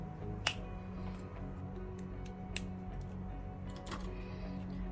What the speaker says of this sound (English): So I'm just gonna kind of snap my fingers and have them done.